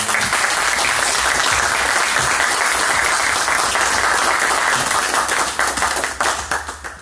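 A literary gathering gives the author Rodrigo Blanco a long, loud ovation, dense clapping that holds steady before thinning into scattered claps at the end.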